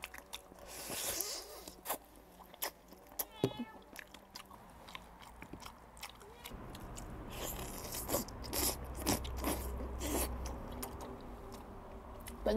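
Close, quiet bites and wet chewing on spicy braised lamb trotters, with irregular crunchy and smacking sounds spread across the stretch, plus faint background noise.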